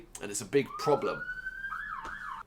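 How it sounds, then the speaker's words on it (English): A police car siren outside a window, heard as a rising then wavering tone beneath a man's speech before continuing alone for a moment, moderately loud as if just outside. "it's the sound of a screeching police car outside my window out there"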